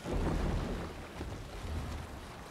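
A Viking boat is rowed across open water in Assassin's Creed Valhalla, giving a loud, continuous rush of water and wind that swells at the start and settles into a steady wash.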